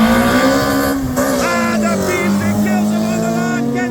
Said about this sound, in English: this is a race. 4-cylinder versus 6-cylinder turbo.